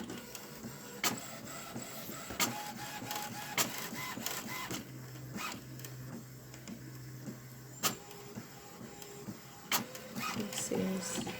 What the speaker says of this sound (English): This is aligning printer.